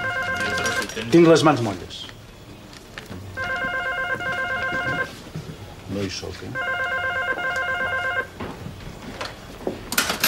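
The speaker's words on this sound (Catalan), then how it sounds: "Telèfon." A telephone bell rings in repeated bursts indoors in a station bar, several rings spaced a couple of seconds apart, with people talking between and over them.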